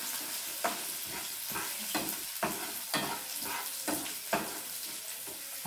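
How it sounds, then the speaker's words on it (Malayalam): Spices and curry leaves tempering in hot oil for a mackerel curry, a steady loud sizzle with regular scraping stirs of a spoon against the pan, no voices. "അപ്പോൾ അതൊന്ന് വറവിടട്ടെ."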